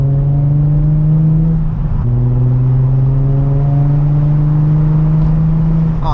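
A Nissan 350Z HR engine hums steadily and loudly as the car drives, its pitch rising and falling slightly with the throttle, close and continuous.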